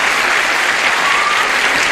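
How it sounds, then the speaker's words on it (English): Steady, dense studio audience applause on a game show greeting two contestants, loud and continuous for the full two seconds with no talk over it. "give a brisk round of applause to our two players, Beth Horning and June Rose"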